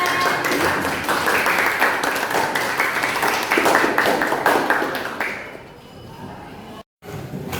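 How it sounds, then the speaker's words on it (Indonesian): Students in a tenth-grade Islamic religious education class clap together in a dense round of applause that fades out after about five seconds, leaving quiet room sound. "Tepuk tangan"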